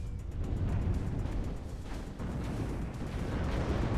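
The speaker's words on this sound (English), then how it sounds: "all of these tanks just laying down so much suppressive fire, so much supporting fire" Heavy tank fire in the WARNO real-time strategy game, a dense, continuous rumble of booming shots and explosions rolling together at steady loudness, with no voices.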